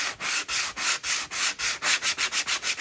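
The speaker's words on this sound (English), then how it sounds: "I want to see how much I can sand" Rhythmic sanding, a steady series of back-and-forth rubbing strokes on wood, close and fairly loud, speeding up toward the end.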